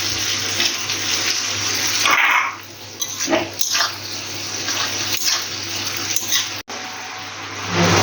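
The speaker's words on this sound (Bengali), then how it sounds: "তারপরে পরিমাণ মতো জল দিয়ে দেবো" Water poured into a pan of potatoes cooking in spices: a loud, steady rushing pour with a few brief changes in flow and small knocks.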